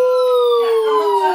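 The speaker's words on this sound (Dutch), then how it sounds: "Wat een sirene." A toy ambulance siren wails in a steady, slowly falling electronic tone, close and clear for just over a second.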